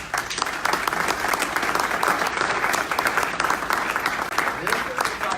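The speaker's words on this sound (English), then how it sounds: "Let's give her a big round of applause." A community meeting audience breaks into steady, dense applause for a young volunteer, the clapping loud and continuous throughout with no pause.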